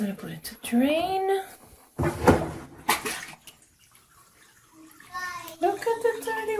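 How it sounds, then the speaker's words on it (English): A Giantex portable mini washing machine drains its dirty water in a brief rushing, splashing burst, with a person talking loudly before and after. "Now I'm gonna put it to drain."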